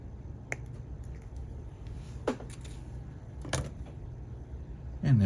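Sharp little snips and clicks sound as a bent wire piece is clipped off an HO scale steam engine model kit, a few faint, isolated cuts spaced apart over a quiet background.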